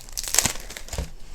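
Small plastic packaging bags from a diamond painting kit crinkle and rustle in a quick, close burst of crackling lasting just over a second.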